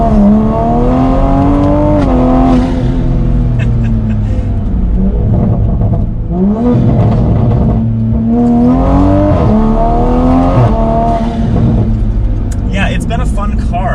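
A modified Toyota Supra A90 engine revs loudly and close by, rising and falling in several long sweeps with a steady droning tone between them. Someone talks over it throughout.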